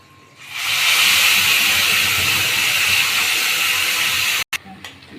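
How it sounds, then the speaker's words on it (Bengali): Onion-capsicum paste with cardamom, cloves and dried red chillies frying in a pan over a low gas flame, giving a loud, steady sizzling hiss that starts abruptly, holds evenly, then cuts out briefly near the end. "রেখে আমি এখানে আস্তে আস্তে এই মশলাটাকে ভেজে নিচ্ছি"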